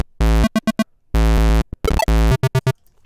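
Raw 8-bit electro house synth bass from square wave oscillators: loud buzzy sustained notes broken by short staccato stabs in a choppy rhythm, dry and unprocessed.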